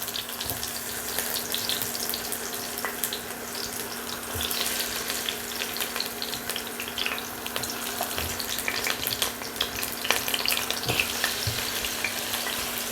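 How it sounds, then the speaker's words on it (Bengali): Round slices of half-boiled potato fry in oil in a wok with a continuous, even sizzle and crackle, close and fairly loud, with occasional light stirring noises. "কড়াইতে দিয়ে দিচ্ছি ফিফটি পারসেন্ট সেদ্ধ করা আলু গোল গোল করে কেটে নিয়েছি"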